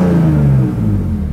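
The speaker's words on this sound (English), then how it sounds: "when you rev it up, she has plenty of power" A car engine revs briefly and loudly nearby, with a strong low growl that drops in pitch after the throttle lets off.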